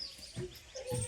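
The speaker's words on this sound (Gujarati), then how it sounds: "કેટલો મસ્ત અવાજ આવે છે ને પક્ષીનો" A few short bird chirps in quick succession, light and thin over faint background noise, with no voices.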